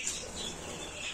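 Pigeons moving into small round nest boxes, with soft wing flapping and faint chirps amid a hissy background, brief and moderately quiet.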